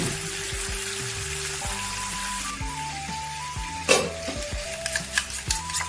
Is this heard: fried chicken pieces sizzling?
yes